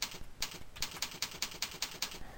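A computer keyboard clatters in quick, even keystrokes, about a dozen close, crisp taps as a key description is typed, with no talking.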